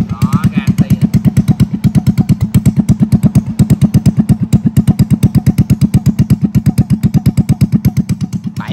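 A motorcycle engine with no exhaust pipe fitted runs loudly and steadily up close during a test run, its rapid, even thumping pulses continuing throughout with a slight rattle.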